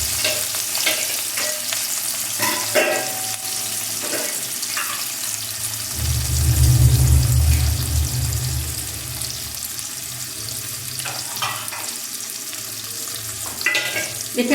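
Pumpkin, potato, onion and green chili frying in oil with black cumin seeds, a continuous close sizzle marked by scraping stirs, swelling louder for a couple of seconds midway before settling back.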